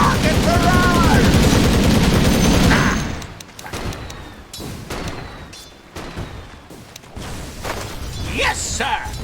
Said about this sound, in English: Rocket barrage!